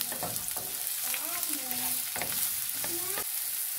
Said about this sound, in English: I'm just going to allow this to saute.